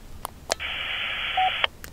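A UHF CB radio repeater in duplex mode answering a transmission with a steady electronic tone burst, set between short clicks and beeps, close and fairly loud with no voices.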